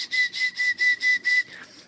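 A person whistles to call a cat, about six short, clear, high whistle bursts in a steady rhythm, close and fairly loud, fading at the end.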